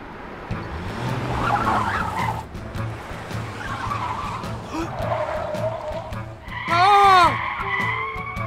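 Cartoon car with worn tires skidding to a stop, a loud rising squeal of rubber over a running engine rumble, with a sharp wavering screech near the end.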